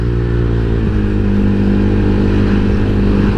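A Honda Vario 150 eSP scooter fitted with enlarged custom BRT carbon valves runs loud and close, its engine holding a steady, buzzing hum with a slight pitch shift partway through.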